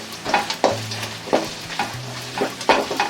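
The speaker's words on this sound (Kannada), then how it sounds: "ಉದ್ದಿನಾಗಿ ಕಟ್ ಮಾಡಿ ಎರಡೂ ಹಾಕಿ ಸ್ಟವ್ ಸಣ್ಣ ಉದ್ದಿನ ಇಟ್ಕೊಂಡು ಫ್ರೈ ಮಾಡ್ಕೊಳ್ಳೋಣ" Slit green chillies fry in oil in a pan over a low flame for mango rice, soft sizzling broken by irregular crackling pops and faint pan scrapes, close by with no talk.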